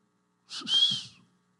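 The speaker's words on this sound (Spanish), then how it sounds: "Ese era el chiflido de nosotros" One short, sharp signal whistle from a person, bright and piercing, rising then holding briefly before cutting off in near silence.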